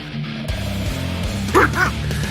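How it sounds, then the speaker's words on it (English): A small dog gives a couple of sharp, close yips after a low, rumbling sound, brief and fairly loud within a quiet indoor scene. "Then there was the sound of a low growl and a yip as Agnes came shooting out of the remains of"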